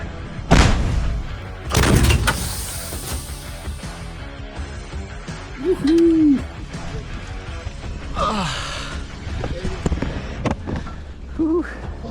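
Two loud, booming blasts of Ukrainian artillery fire ring out near the start, echoing away, followed by scattered voices and shouts.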